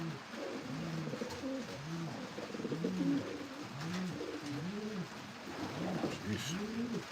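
Racing pigeons coo in a loft, a chorus of soft, repeated low rolling coos overlapping close by, with faint rustling and brief talk in the background.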